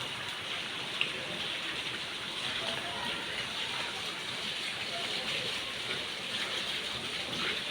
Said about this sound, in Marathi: पाऊस सुरू आहे